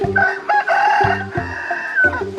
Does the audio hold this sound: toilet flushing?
no